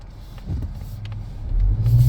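A 2023 Mazda 3 Turbo pulls out, its engine rumbling low and rising steadily in a deeper surge near the end, heard close from inside the car with no talking.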